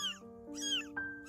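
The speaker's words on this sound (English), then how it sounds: "a newborn kitten broke the silence of the night with its loud meow" A newborn kitten meows loudly at night, with about three strained, high cries in close succession, the last one short and sharp.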